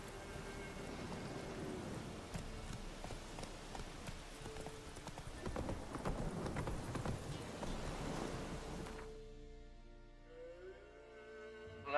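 Roach the horse trotting in The Witcher 3, steady rhythmic hoofbeats clip-clopping close by for about nine seconds before the pace fades under softer ambient game sound.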